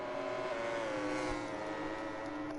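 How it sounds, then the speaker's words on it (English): A MotoGP 20 racing motorcycle powers out of a corner at the Austrian Grand Prix, its engine holding a loud, steady high-pitched drone with rising harmonics as it accelerates, no voices over it. "He sits that bike up and powers out."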